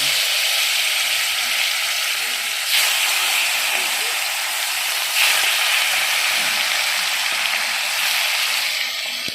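A steady, loud sizzle of snakehead fish frying in hot oil continues throughout, with faint bursts of crackling and no talking.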